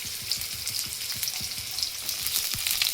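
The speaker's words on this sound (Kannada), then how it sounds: "ಸ್ವಲ್ಪ 1 ಇಂಚಷ್ಟು ಹಸಿ ಶುಂಠಿ ಹಾಕ್ತಾಯಿದ್ದೀನಿ. ಮತ್ತು 1 ಇಂಚಷ್ಟು ಚಕ್ಕೆ ಮತ್ತು ಒಂದು 5 ಲವಂಗ ಹಾಕ್ತಾಯಿದ್ದೀನಿ" Ginger, cinnamon and cloves fry with coconut in a pan, giving a steady bright sizzle with quick repeated scraping strokes of stirring, close and even throughout.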